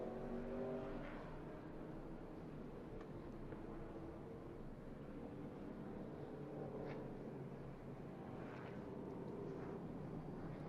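ARCA Menards Series West stock cars slow to about 35 mph through the turn 11 hairpin at Sonoma Raceway, their engines a steady, distant rumbling drone with occasional revs and no voices.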